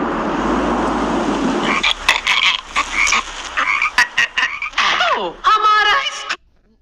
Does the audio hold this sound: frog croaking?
yes